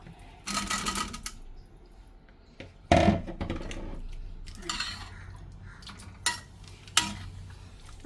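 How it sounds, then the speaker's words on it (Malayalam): Boiled baby potatoes go into a simmering potato gravy, with a spoon scraping and knocking against the pot in irregular bursts over a low bubbling sizzle. "ഈ ഉരുളക്കിഴങ്ങ് വേവിപ്പിച്ച് വെച്ച ഉരുളക്കിഴങ്ങ് ഇതിലേക്ക് ഇട്ട് കൊടുക്കാം."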